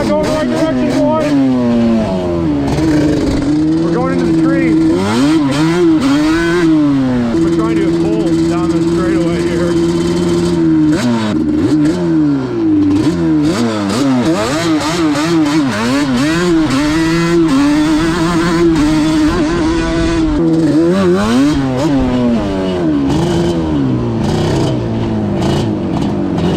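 A Yamaha Banshee 350 ATV on a wheelie down a bumpy hill, its engine droning loud and close with constant rising and falling revs and no break, and wind buffeting over it.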